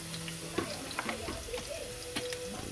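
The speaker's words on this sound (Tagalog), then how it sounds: "Gisahin lang natin yung bawang guys." Garlic sautéing in a pan for a ground pork and string bean stir-fry: soft, steady sizzling with scattered light clicks and taps of stirring, fairly quiet and close.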